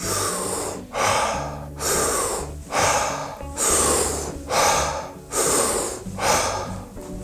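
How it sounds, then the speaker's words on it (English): Rhythmic deep breathing during a breathing exercise: about eight loud, close breaths, each a long rushing inhale and exhale, repeating steadily with brief pauses between cycles and no speech. "That is the breathing."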